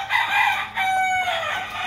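A white-tailed giro gamecock crows once, a loud, close, drawn-out call with a slightly falling pitch that holds for nearly two seconds.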